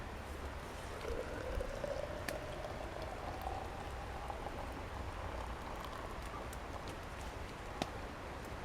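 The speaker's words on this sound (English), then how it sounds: "we got a full rolling boil" Water at a rolling boil in a titanium camping pot outdoors, a steady, close, bubbling rush with a few sharp pops and a soft tone that drifts through the middle, with no talk.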